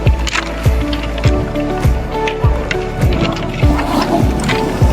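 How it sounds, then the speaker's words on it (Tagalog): Strong surf pounds a pebble beach, close and loud, with repeated crashes and the rattling drag of stones as each wave pulls back, while people talk in the background. "Ang lakas ng alon dito."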